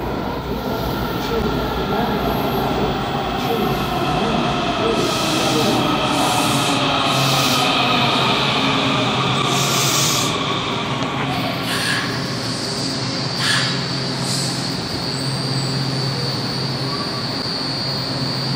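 A Washington Metro 7000-series train at Van Ness-UDC station gives a loud, steady rumble and rail roar with rising high-pitched whines as it moves through, while platform announcements sound over it.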